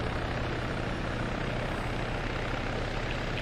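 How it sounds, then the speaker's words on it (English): Helicopter flying overhead in the military game Arma 3, a steady, loud rotor beat and engine roar holding constant across the whole stretch, near and unbroken. "We cannot hear you because of the helicopter."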